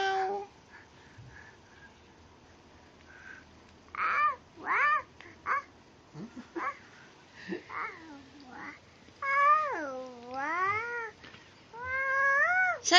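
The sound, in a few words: cat meowing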